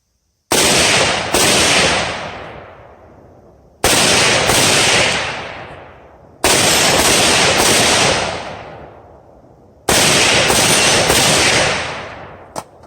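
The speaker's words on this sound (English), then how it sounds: "We're going to take some shots here and let you guys see it in action." Shots from a PSA $259 budget pistol kit, fired in four separate loud bursts of two quick close reports each, every pair ringing out with a long decaying echo outdoors.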